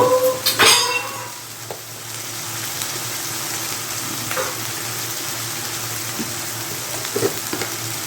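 Chili paste, red chili powder and turmeric are sautéed in a pan, opening with a sharp metal clatter of utensils, then a steady sizzle with occasional stirring clinks.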